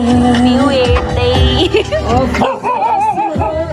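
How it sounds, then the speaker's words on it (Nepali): Several dogs barking and yipping near a lodge in Bhujung on a cold night, repeated loud barks layered over ongoing music and nearby voices. "कुकुरहरू भुक्दै"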